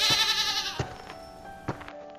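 Sheep bleat repeatedly near the edge of a forest as a shepherd leads his flock, several wavering calls rising and falling close by, with no talking over them.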